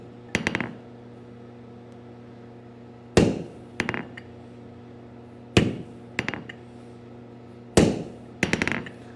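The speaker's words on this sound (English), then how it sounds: "Now I'm tilting my hammer kind of away from the hole so I'm not smacking it." A hammer strikes hot steel during blacksmith forging in sharp, close, ringing clusters of two or three blows, each cluster separated by a pause of about two seconds, over a faint steady hum.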